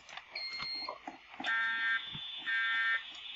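A school fire alarm sounds during a test, with loud shrill electronic tones pulsing in repeated half-second bursts that stand out over faint background noise.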